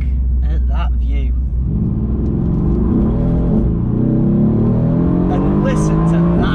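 A Mercedes-AMG GT R's engine rumbles loudly from inside the moving car, revs rising and falling through downshifts, with someone talking over it.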